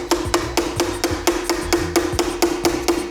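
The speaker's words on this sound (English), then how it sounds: "Now let's hammer back in our mekugi." Steady hammer taps driving a mekugi peg back into a katana's handle, about a dozen sharp, evenly spaced strikes, close and clear with nothing else heard.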